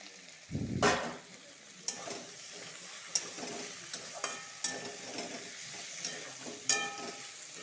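Mustard and chili paste hits a hot pan with a loud splashing sizzle, then fries steadily, with repeated clinks and scrapes from stirring over the next several seconds.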